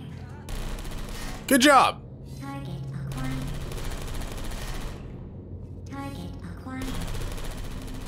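Repeated bursts of rapid turret gunfire in the video game Portal 2, broken up by short gaps, with one louder electronic-sounding burst and a voice speaking briefly over it.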